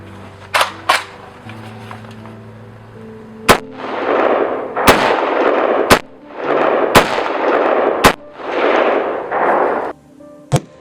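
Palmetto State Armory GF3 AK-47 with a slant brake firing 7.62x39 rounds outdoors at night, about eight loud, sharp single shots spaced a second or so apart, each followed by a rolling echo, with no talking.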